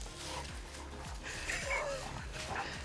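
A golden retriever makes excited dog noises, snorts and yips over a noisy outdoor backyard background with steady rustling and wind-like hiss.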